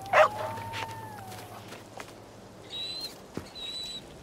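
Dog barking in the video game Arizona Sunshine 2, a sharp single bark up front followed by quieter yips and whines over a low steady hum.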